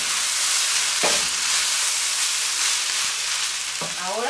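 Quinoa fried rice sizzles and crackles steadily in a hot pan, with a couple of soft scraping stirs along the way.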